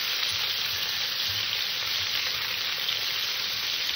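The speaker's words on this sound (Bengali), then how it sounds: "আমি সুন্দর লাল লাল করে পটল কটা ভেজে নিয়েছি।" Pointed gourd (potol) frying in hot oil, a steady close sizzle with no talk.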